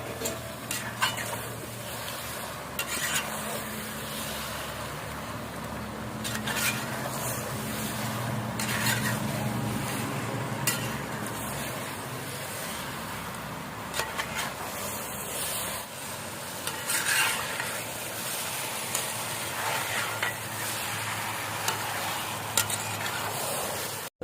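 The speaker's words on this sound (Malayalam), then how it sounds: "ഇതിലേക്ക് ചിക്കൻ ഇട്ട് കൊടുത്തിട്ട് നന്നായിട്ടൊന്ന് മിക്സ് ചെയ്ത് പിടിപ്പിക്കും." Small chicken pieces stirred and fried in a pan with onions for pepper chicken, a soft continuous sizzle with intermittent stirring scrapes against a broad steady hiss, no voices.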